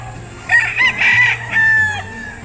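Gamefowl roosters on a fighting-cock farm crow loudly in a couple of long harmonic calls, with clucking between them, close by over a low background hum.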